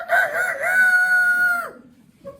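A rooster crows once in a long, loud, sustained call that cuts off sharply, followed by near silence and a faint sound at the end.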